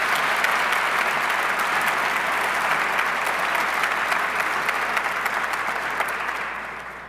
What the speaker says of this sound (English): could we give a round of applause for our beautiful cultural performances?